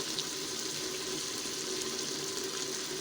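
A cup of cooking oil pours into a pot of mutton and potato curry, making a steady, soft liquid hiss and sizzle that runs evenly for about three seconds with no voices.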